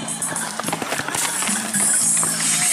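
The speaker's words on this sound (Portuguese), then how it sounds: "Lá vem cavalo." Horse hooves pound in a quick galloping rhythm beneath a noisy crowd at a Brazilian vaquejada, with loudspeaker chatter and cheering filling the background.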